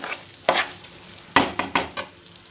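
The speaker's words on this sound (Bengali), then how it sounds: "এই চালটাকে আমি খুব ভালো করে ভেজে নেব।" Rice coated with salt and turmeric frying in oil for basanti pulao, with a few scraping stir strokes spaced across a faint sizzle, close and fairly loud.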